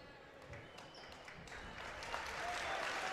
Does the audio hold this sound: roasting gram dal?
no